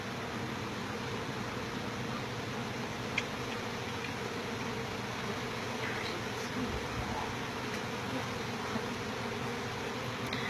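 Honey bee colony being removed from a house soffit, a dense steady buzzing drone heard close and continuous, with faint scattered clicks and no talking.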